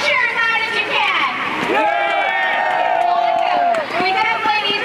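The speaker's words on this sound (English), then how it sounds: "Yourselves a round of applause and cheer as loud as you can." Large crowd at an outdoor protest rally cheering and applauding loudly and steadily, a dense roar of voices and claps with shouted cheers rising over it.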